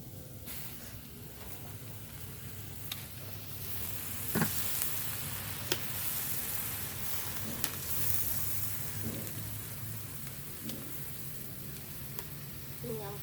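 Young papaya leaves going into a pan with water, a steady hissing sizzle with occasional sharp clinks and stirring scrapes, continuous and close throughout.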